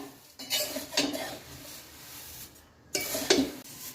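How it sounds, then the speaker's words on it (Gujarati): A spoon scrapes and clinks against a pan while poha chivda is stirred and roasted, with two clusters of metallic scraping strokes separated by quieter gaps. "આ રીતના એને સખત આપણે હલાવતું જ રહેવાનું છે"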